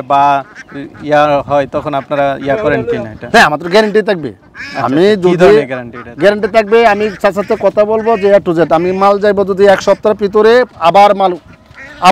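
Ducks at a duck farm, including egg-laying ducks, quack repeatedly and loudly, nearby, mixed in with people talking throughout.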